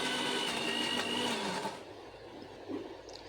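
Mixer grinder whirring cashews and sugar into a smooth paste, a loud steady motor whine close by that cuts off partway, leaving a quiet room with faint clatter.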